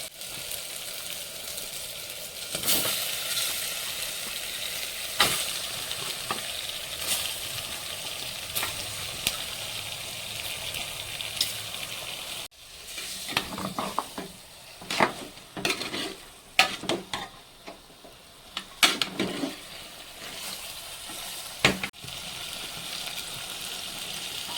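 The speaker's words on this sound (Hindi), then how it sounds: "देखंतु आम मसलाटा भलसे कषि गला। एबे आम चिकेनटा पकेबा" Village-style masala chicken curry fries in a pan, a steady sizzle under repeated scraping and clinking stirs from a spoon against the pot, the stirring growing busier in the second half.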